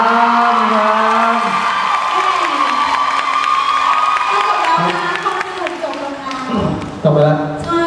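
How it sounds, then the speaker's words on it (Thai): At a Thai fan event, a large crowd of fans shrieks and cheers loudly and continuously, with high screams swelling and falling and some shouting mixed in. "ขอเสียงกรี๊ดให้กับน้องโดนหน่อยเร็ว"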